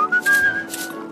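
A person whistles a clear, fairly loud tune close by, with a few short notes and then longer held ones, and nothing else underneath.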